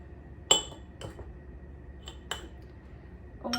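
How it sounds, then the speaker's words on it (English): Metal spoon clinking against a mug while stirring cocoa powder for a chocolate mug cake, a few sharp separate taps spaced across a quiet room, no talking. "cocoa powder, now we should give it a mix."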